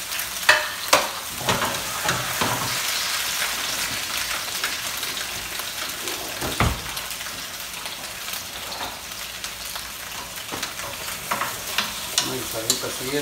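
Tomato, onion, plantain and garlic for mole fry together in a pan with a loud, continuous sizzle, broken by repeated scraping and clattering stirs of a spoon.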